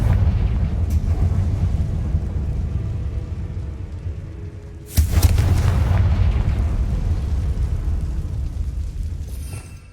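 A fiery Confringo explosion spell from Hogwarts Legacy bursts with a loud, sudden boom midway through, rising out of a constant rumbling battle din and then fading into a sustained roar.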